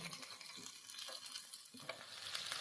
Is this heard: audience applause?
no